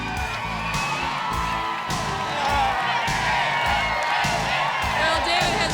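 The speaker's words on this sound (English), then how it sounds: "David has quite a cheering section behind him" A cheering section at an American Gladiators event whoops and yells for a contestant, a lively crowd roaring in the background while a commentator talks over it.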